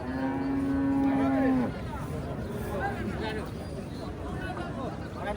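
A cow lets out one long, loud moo at a busy village cattle market selling local desi cows, then the call breaks off and crowd babble and talk carry on underneath.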